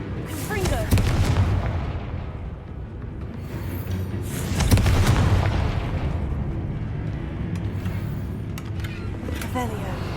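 Confringo fire-blast spells exploding during Hogwarts Legacy gameplay, delivering repeated deep booms at about one, five and nine seconds over a continuous rumbling game soundscape.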